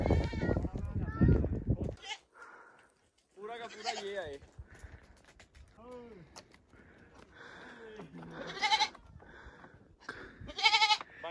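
Goats bleat repeatedly along a mountain hiking trail in rural Guizhou, China, their calls fairly close and scattered across the clip, with people talking and breathing heavily in between.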